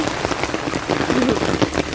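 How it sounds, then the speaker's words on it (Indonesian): Heavy rain pours steadily onto a surface, a dense, constant hiss of drops with no wind gusts and no voices over the full stretch. "Hujan teman-teman cukup deras ya."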